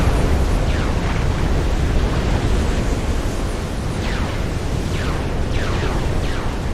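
Long-range naval bombardment in Forged Alliance Forever, with a dense roar of shell impacts and explosions from frigates and destroyers rumbling continuously, a few whistling rounds audible over the steady, loud barrage.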